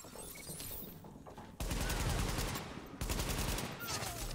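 Rapid gunfire bursts in the video game Tom Clancy's The Division, loud and dense bursts of automatic shots that jump in intensity mid-way, over background game sound.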